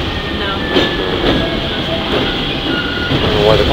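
A New York subway train rumbles past with a steady, loud roar of wheels and rail noise, faint squeals rising over the continuous clatter throughout.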